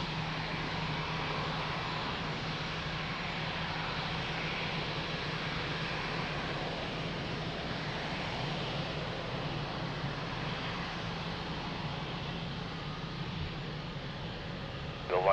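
Aircraft engines at Lisbon Airport rumble as a continuous, distant roar with a low steady hum, while a tower controller's radio voice gives takeoff clearance over the top throughout.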